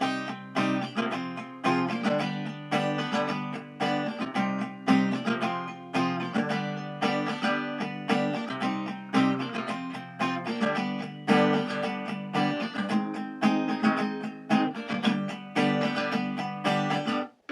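Guitar plays the townspeople's verse of a song in a steady, busy rhythm of strummed chords for over fifteen seconds, close and full, with no voice.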